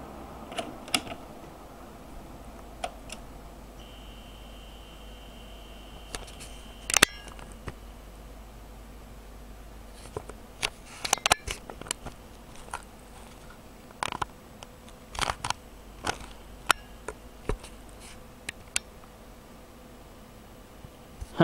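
A Zip drive struggling to read a bad disc, giving sparse irregular clicks and ticks with a brief whirring tone, quiet and close over faint background hum.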